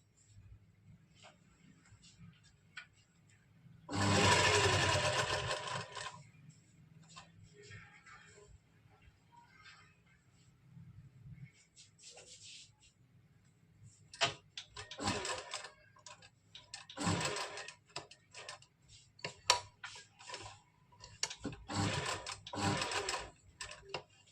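A sewing machine runs long basting stitches through lining and kurti fabric, first in one loud sustained burst, then in several shorter stop-start runs with small ticking mechanical sounds between them.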